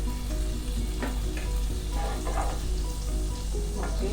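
Ghee and butter melt and sizzle in a hot pan, a steady close crackling fry with a low hum beneath and occasional soft scraping stirs, no voices.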